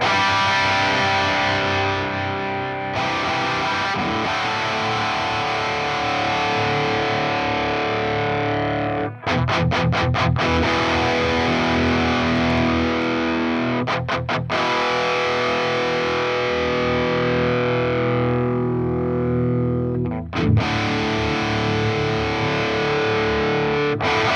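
Heavily distorted electric guitar through an ML Sound Lab Amped ML800 Marshall amp model with presence turned all the way up, with sustained crunchy chords broken by sharp, rapid palm-muted chugs and brief stops, loud and bright with no talking.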